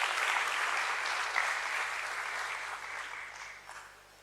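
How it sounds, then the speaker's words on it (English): Audience applause at a stock exchange listing ceremony for a biorefinery company, a steady wash of clapping from a seated crowd that gradually tapers off toward the end. "Let's have a huge round of applause for her, please."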